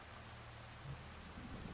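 Steady rain falling in the farming video game Farming Simulator 25, a continuous broadband hiss with low rumble underneath, fairly quiet and alone with no talk.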